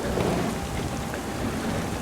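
Steady, dense rainfall in Farming Simulator 25 hisses and patters evenly throughout, with no voices over it.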